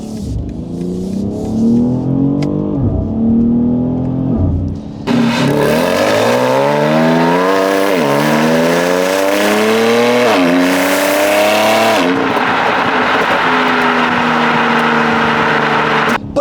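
A BMW X4 M Competition accelerates hard, its engine note climbing through several rising gear pulls in a loud, close, continuous run, with a brief shift break partway through.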